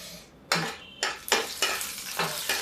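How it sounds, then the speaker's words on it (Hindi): Mustard seeds crackle and pop in hot oil with sharp bursts of sizzling at irregular intervals, close up and fairly loud. "देखिए राई तड़क जाए"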